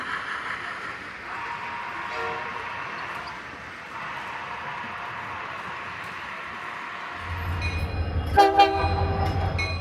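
A train on the Union Pacific Greeley Subdivision main line between Cheyenne, Wyoming and Denver, Colorado rumbles steadily, then a deep rumble swells near the end with a brief loud horn blast.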